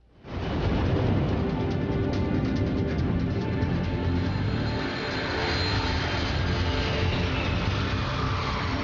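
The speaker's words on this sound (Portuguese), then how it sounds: "traz a aeronave 517 até o solo e aterrissa em segurança" A United Airlines 585 airliner comes down to land, its engines roaring loud and steady as a broad wash of rumble and whine that holds for several seconds, with no voices.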